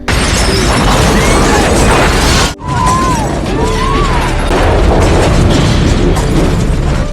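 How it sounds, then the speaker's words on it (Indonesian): A loud, sustained roaring blast with crashing debris fills the whole stretch, briefly cutting out before the rumbling resumes, as a bus explodes in the film Speed (1994). "tiba-tiba ada sebuah bus meledak"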